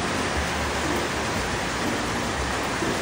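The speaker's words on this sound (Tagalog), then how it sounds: "malakas na naman ang ulan, tag-ulan na talaga" Heavy rain pouring down, a dense, steady hiss of water on surfaces that stays loud and unbroken throughout.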